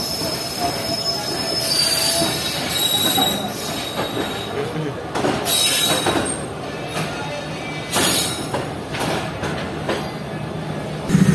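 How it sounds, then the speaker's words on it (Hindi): Train wheels squeal and screech on the rails at Khanewal railway station, loud and close, with rumbling carriages and a busy background of crowd noise. "ये खानेवाल रेलवे स्टेशन की रौनक है, जो कि 24 घंटे तक ऐसी ही रहती हैं"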